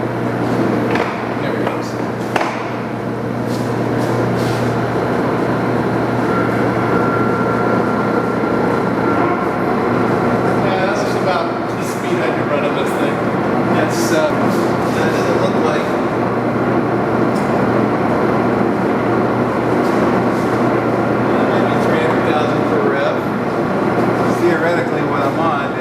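An Axelson lathe turns at slow spindle speed, giving a steady low mechanical drone and hum with light rattling and clicks.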